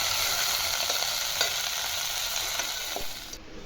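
Okra and green chillies sizzle steadily in a pan, a continuous close hiss with a few soft scraping stirs and no talking.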